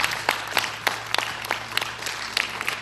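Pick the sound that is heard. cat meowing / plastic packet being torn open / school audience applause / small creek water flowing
school audience applause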